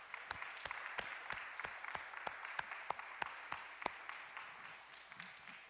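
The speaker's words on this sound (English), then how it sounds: "could you join me in giving him a round of applause?" An audience at a tech conference session applauds after a presentation, with a steady run of claps that is fairly faint and fades toward the end.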